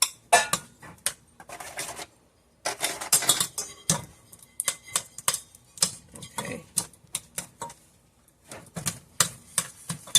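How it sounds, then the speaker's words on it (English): Soft butter and sugar being mixed by hand in a bowl, with repeated scraping and clattering strokes of the utensil against the bowl in an irregular rhythm, close and moderately loud, pausing briefly between bursts. "we need to first combine the butter and the sugar"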